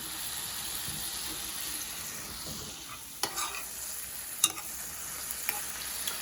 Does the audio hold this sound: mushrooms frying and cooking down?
yes